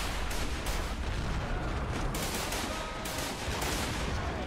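Dense, continuous gunfire and distant artillery from a WWI trench battle game set in 1915, with sustained loud rumbling and crackling volleys throughout and no clear pauses.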